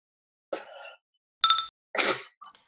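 A single sharp sneeze bursts out close to the microphone in a quiet room, followed by a short breathy exhale and a small clink.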